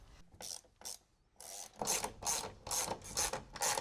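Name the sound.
tightening nuts on studs while mounting a camper van air conditioner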